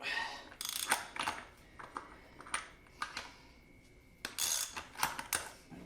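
Clutch basket nut on a Ducati Monster S2R 1000 engine being loosened while the basket is held in place: a series of close, sharp mechanical ratcheting clicks and metallic bursts in irregular clusters, with no talk.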